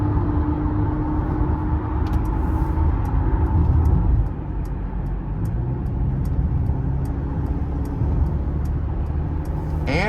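A 2025 Mercedes-Benz GLC 300 rolls along the road with a steady, close interior drone of engine and tyre noise, a faint rhythmic ticking like a turn signal clicking throughout.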